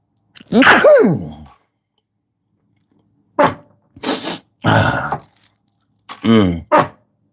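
A single sharp sneeze rings out, followed after a pause by people talking in short bursts.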